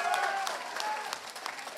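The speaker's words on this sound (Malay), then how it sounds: "Tepuk tangan kuat-kuat" A crowd applauding at an outdoor political rally, a steady wash of clapping at moderate distance with faint voices and a tonal hum mixed in.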